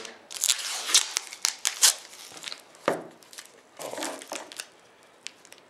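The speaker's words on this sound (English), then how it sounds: "let's cut these open, see what we got going on here" Scissors snip and slice through mail packages, with several sharp cuts and crinkling wrap in a quick, close, irregular burst.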